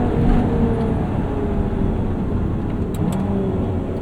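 The engine of a modified 2024 Lotus Emira roars continuously at high revs from inside the cabin, a loud, dense, steady drone with no talk.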